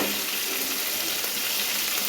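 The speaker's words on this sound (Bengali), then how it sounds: "এবার পেঁয়াজ কুচিগুলো দিয়ে দেবো।" Chopped onions hit hot oil seasoned with nigella seeds, producing a loud, dense, continuous sizzle and crackle that fills the whole moment without any voices.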